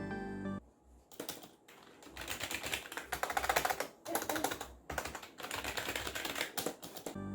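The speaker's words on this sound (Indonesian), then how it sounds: "jika kalian penasaran dengan suara keyboard ini dia suaranya" Fast typing on an NYK KR-301 RGB membrane gaming keyboard, dense close clacking in bursts separated by short pauses.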